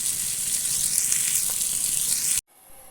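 Fish fries in coconut oil in a pan with a loud, steady, close sizzle, bright and hissing, which then cuts off abruptly near the end.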